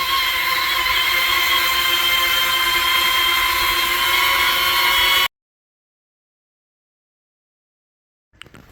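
A DJI Neo 2 drone's propellers give a steady, close, whirring whine with a buzzy tonal edge for about five seconds. The sound then cuts off into silence, followed by a brief faint noise at the end.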